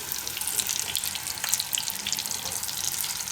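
Stuffed green chillies frying in hot oil, a dense, continuous bright crackle and hiss with no pauses, close and steady, with no talking.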